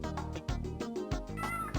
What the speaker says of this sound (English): I like the meowing.